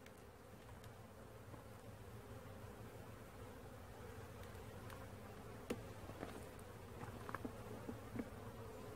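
Bees hum continuously at an open beehive, a close, steady drone with occasional faint clicks and ticks of handling in the hive.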